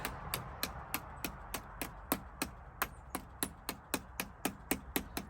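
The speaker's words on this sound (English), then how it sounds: "need a little hammer." A small hammer taps in a steady, even rhythm, about three blows a second, each a sharp, fairly close knock with no voices, while fitting a bigger battery in a Mazda RX-8.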